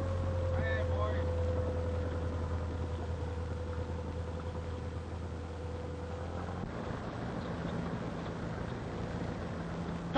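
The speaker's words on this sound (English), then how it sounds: "Could be a motorboat." Engine of a motorboat in a 1933 adventure film, a steady low drone with a whining tone that holds for about six seconds, then gives way to wind and water noise.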